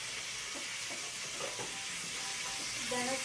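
Katla fish pieces frying in a pan for a Bengali kaliya, a continuous close sizzle with faint stirring clinks and a soft tonal beep near the end.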